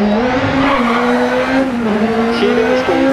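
Hyundai i20 WRC rally car in the PS4 game Dirt Rally heard from on board, its engine droning loud and close with rising and falling revs and brief tire squeals.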